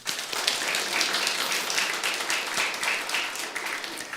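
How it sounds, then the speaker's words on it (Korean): A church congregation gives the choir a round of warm applause during a Korean Sunday worship service, a dense and sustained clapping that fills the hall steadily from start to finish. "우리 찬양대를 위해서 다시 한번 축복의 박수를 하겠습니다."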